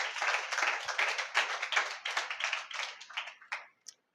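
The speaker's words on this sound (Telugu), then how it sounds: "చప్పట్లు కొట్టి యేసయ్యకు మహిమ చెల్లించుదాం" A church congregation at a fifth-anniversary service claps in praise, with a brisk, loud patter of many hands that carries on steadily for several seconds before breaking off into near silence.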